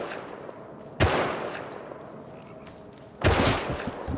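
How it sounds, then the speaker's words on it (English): Gunfire sounding around a base in Rust: two sharp, loud volleys about two seconds apart stand out over a quieter background of distant shots. "They're shooting all around the base."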